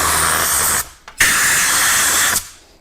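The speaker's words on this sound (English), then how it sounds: "take some compressed air, stick the nozzle in there, and tilt this thing at an angle while blasting air in there" Compressed air blasts from a nozzle into a ballistics gel mold in two loud, close hissing bursts, each under a second or two long, split by a short gap, then cut off.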